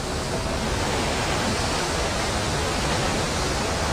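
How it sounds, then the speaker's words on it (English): A big waterfall about 25 kilometers from Munnar in Kerala roars as a steady, dense rush of falling water, loud and unbroken from start to finish with no voices. "It's a big waterfall."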